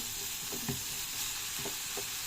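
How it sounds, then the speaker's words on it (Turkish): Peppers and onions sautéing with minced meat in a pan, a continuous bright sizzle with soft scraping stir strokes now and then, close and fairly quiet. "Biberi falan kavuruyorum. Ondan sonra kıymasını koyuyorum"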